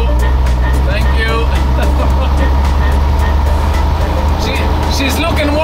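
A 1970 Ford D-Series horse truck drives with a loud, steady low engine drone and road rumble, close and continuous throughout, with faint higher noises on top.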